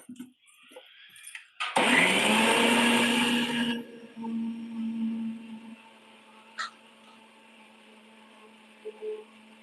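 A mixer grinder whirs loudly for about two seconds as it grinds ripe mango for homemade mango Frooti, then cuts off, leaving a low hum and a few faint clicks in a quiet kitchen.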